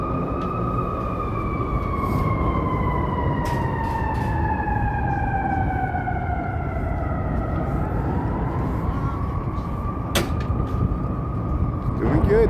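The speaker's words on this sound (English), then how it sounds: "We got sirens above us." Emergency vehicle sirens wail overhead near the LaSalle Street Bridge in Chicago on St. Patrick's Day, a steady falling siren tone over loud traffic rumble, with voices talking underneath.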